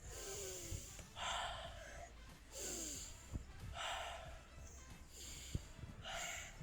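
Slow, deep breaths drawn in and pushed out through the nose, several cycles in a steady rhythm, fairly quiet with faint background noise.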